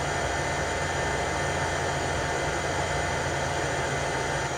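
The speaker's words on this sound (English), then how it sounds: "the only noise on this thing is the exhaust fan" A laser engraver's exhaust fan gives a steady, even whoosh without a break, broadband and constant in level, with a low hum underneath and no talking.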